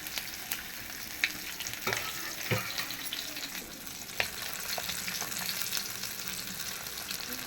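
Two masala-coated fish frying in oil in a pan, a soft continuous sizzle and crackle with a few faint clicks of a utensil, fairly quiet and without talk.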